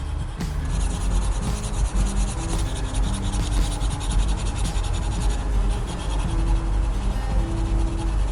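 Steady dry rubbing and scratching of a pencil stylus shading across an iPad screen, continuous and close, with no talking.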